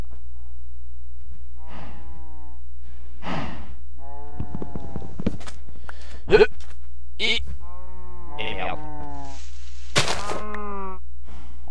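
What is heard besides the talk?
cows mooing while being killed in a video game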